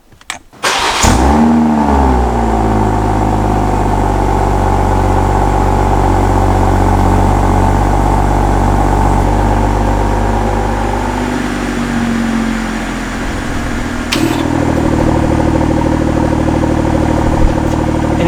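A BMW X3 M40i (G01) starts with its exhaust valves open: a loud, close cranking burst flares into a deep roar, then settles into a steady, rumbling idle, with a brief rev blip near the end.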